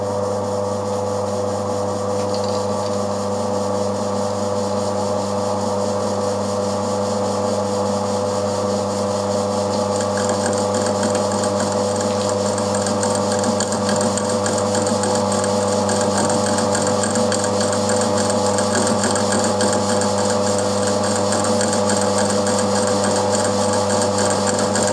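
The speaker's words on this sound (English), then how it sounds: "I've got the mill running as slow as it'll go, and we'll try for it all in one cut" A milling machine cuts an aluminium gear at its slowest speed with WD-40 as cutting fluid, giving a steady mechanical hum with tonal whine and a continuous scraping, grinding texture, loud and unbroken with no talk.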